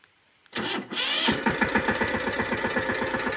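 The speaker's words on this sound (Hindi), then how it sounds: "तो अभी देख सकते हैं कि जो हमारा ट्रैक्टर है वो स्टार्ट हो गया है।" A Mahindra tractor engine is started with its electric self-starter: a short whirring crank catches and settles into a steady, close, chugging diesel idle with a regular pulsing rhythm.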